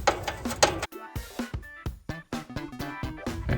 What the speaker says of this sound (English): let's first take our 1/2" hex adapter to our little wrench here, or a screwdriver. Let's just loosen this all the way off.